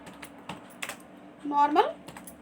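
Light clicks of typing on a computer keyboard come in sparse taps, quiet and close, while someone speaks over the last part.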